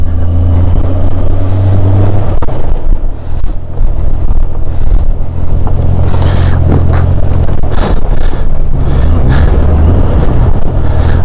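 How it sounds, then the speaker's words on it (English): A Honda Goldwing motorcycle's engine rumbles close and loud as the bike rides off, with the throttle rising and easing through several shifts and a steady road roar throughout. "So here we go, the first official ride of the"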